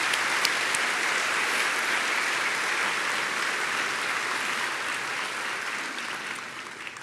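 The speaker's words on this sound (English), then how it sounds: "Please give them a round of applause for their service and dedication to our university." Sustained applause from a large audience at a university commencement ceremony, a dense, even roar of clapping that stays strong and fades slightly toward the end.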